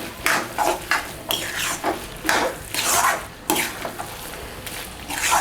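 A spoon scrapes and stirs ridge gourd curry as sesame powder mixture is mixed through it in a pan on the stove, in loud, close, uneven strokes with short pauses between them.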